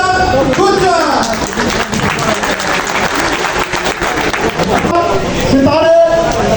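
Conference audience applauding steadily throughout, dense clapping with a voice speaking over it at the start and again near the end.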